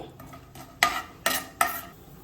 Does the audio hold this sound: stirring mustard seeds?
yes